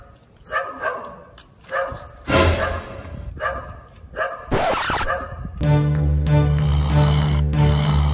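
A dog barks and yips several times in short bursts in Plants vs. Zombies, followed by a whimper over a sustained musical tone, fairly close and loud.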